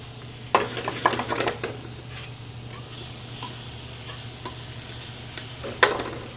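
Brown sugar caramelizing in a pan for an apple tart, giving a faint steady sizzle with a few brief scraping stirs near the start and end, no voices.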